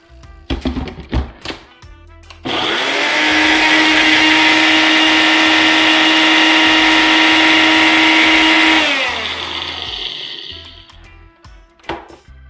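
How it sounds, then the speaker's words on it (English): A countertop blender roars for about six steady seconds while grinding jerk chicken seasoning into a finer paste, with a sharp start and a gradual wind-down, preceded and followed by light clatter and tapping. "Actually, I need to blend it up a little bit more."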